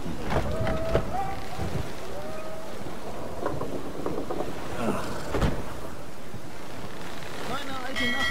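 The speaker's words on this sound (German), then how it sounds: "Und wir werden jetzt mit dem Schiff fahren, mitten in einem Sturm hinein." Ship sailing into a storm in The Witcher 3: Wild Hunt, with steady rain and rumbling thunder, creaking and sloshing water, and characters talking over the stormy noise throughout.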